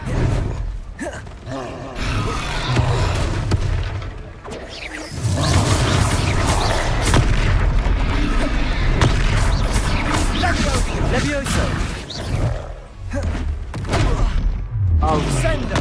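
Confringo fire spell blasts in the Hogwarts Legacy video game, repeated loud booms, whooshes and crackling combat noise with a voice shouting over the action.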